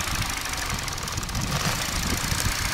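Peugeot 308 with an EP6 petrol engine idling during an ignition coil check, a steady close rumble with a rough, slightly knocking texture and broad hiss, running alone without talk.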